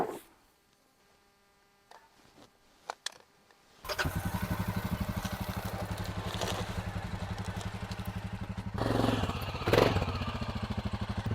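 A four-wheeler ATV engine catches after a few clunks and then idles loudly and steadily nearby at a remote off-grid cabin build site, rising briefly toward the end.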